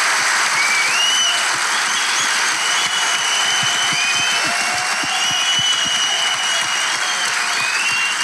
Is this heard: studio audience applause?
yes